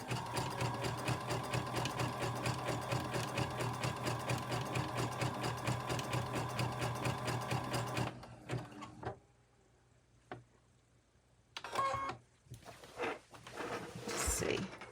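A sewing machine stitches rapidly around a curved leaf shape on an upcycled shirt, a loud steady mechanical chatter for about eight seconds, then stopping as a person talks amid small handling clicks and brief renewed stitching.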